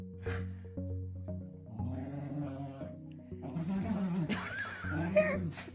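A dog whines and whimpers in high, wavering tones, close by, with soft voices murmuring in the background.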